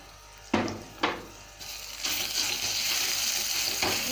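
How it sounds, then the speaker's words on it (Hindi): Cumin sizzles in a pan before crushed ginger-garlic paste goes in. Two sharp clinks come first, then the frying swells into a steady, close hiss that keeps going with no talk. "ज़ीरा 10 से 12 सेकंड फ्राई कर लिया है। अब हम इसमें अदरक लहसुन का पेस्ट शामिल करेंगे, कुटा हुआ अदरक लहसुन।"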